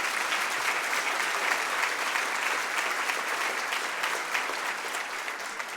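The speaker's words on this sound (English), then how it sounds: "Feel free to applaud now if you agree with me." A room full of guests at a Canadian business hall of fame induction ceremony applauds in a steady, dense wash of clapping that holds at an even level throughout, with no voices over it.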